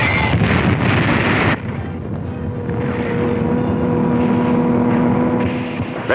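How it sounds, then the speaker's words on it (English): A German Stuka dive bomber attacks near front-line armored fighting in Tunisia, North Africa, a loud roaring rush that drops into a steady droning engine whine with wind-like noise, no voices. "There's a Nazi dive bomber letting one go."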